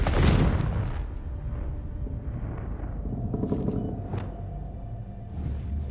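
A Confringo blasting spell bursts in the Hogwarts Legacy video game, a loud booming explosion at the start that decays into rumbling, with further crackling magical impacts and sharp bursts following.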